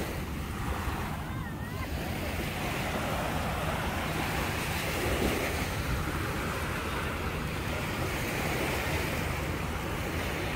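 Sea waves at Gwangalli beach in Busan make a continuous broad wash of surf mixed with wind noise, steady and moderately loud, with a faint voice in the background.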